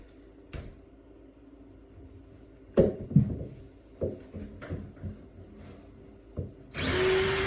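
Scattered knocks and bumps of tool handling against a wall give way to a loud, sustained power drill whine as dowel holes are bored for a floating shelf installation.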